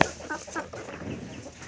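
Aseel chickens, including a black fighter type, give a few short, low clucks close by, fairly faint and with no talking.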